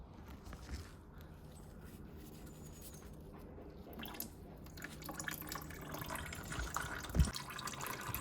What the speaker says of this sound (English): We'll let it drip a little bit before removing it completely.